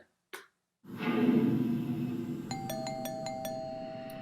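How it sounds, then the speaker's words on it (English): A doorbell chimes several times in a quick series of bright, ringing tones over a steady background rumble, preceded by a brief click. "Perfect way to open this video with some doorbell sounds."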